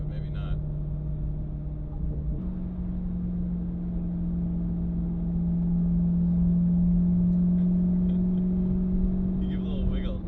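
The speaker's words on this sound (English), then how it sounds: "GTI with an exhaust." A Volkswagen GTI with an aftermarket exhaust drives a mountain road at night, giving a steady engine drone that swells and rises in pitch partway through, with people talking over it.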